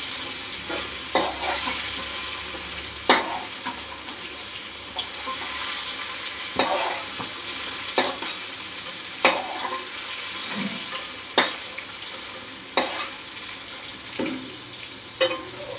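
Pointed gourd (potol) fries in oil in a wok under a steady, close sizzle, with a spatula scraping and stirring in sharp strokes every second or two.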